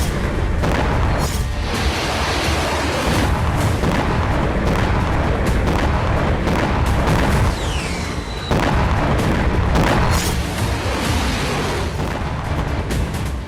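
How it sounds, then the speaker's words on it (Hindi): Loud, dense war footage of repeated explosions in Crimea, with booms and blasts overlapping through a constant roar of fire and rumble, a few sharper cracks standing out. "क्रीमिया में यूक्रेन ने एक के बाद एक इतने धमाके किए"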